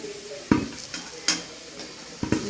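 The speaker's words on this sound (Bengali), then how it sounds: "আলুটাকে ভালোভাবে ভেজে নিচ্ছি" Oil sizzles steadily in a pan as potatoes fry, broken by a few sharp scrapes and clinks of a utensil, close by.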